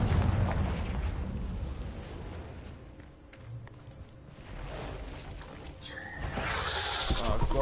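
A Confringo fire spell goes off in Hogwarts Legacy amid heavy explosive booms and rumbling battle noise, continuous and loud throughout, with a bright burst near the end.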